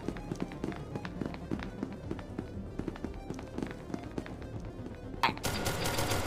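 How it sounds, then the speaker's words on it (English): Gunfire in SCP: Secret Laboratory, a steady rhythmic stream of sharp repeated shots, then a louder, denser burst near the end, with some faint talk. "Actually, shoot your gun."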